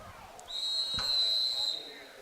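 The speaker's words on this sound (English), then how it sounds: "We get the referee's whistle again for a foul." A referee's whistle blown for a foul during a Henderson County high school football game, one long steady blast of about a second over a low crowd murmur.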